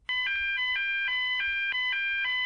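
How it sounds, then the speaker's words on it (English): A fire alarm blares with loud, close, rapidly repeating electronic tones in a steady pulsing rhythm that continues without a break. "It's the alarm!"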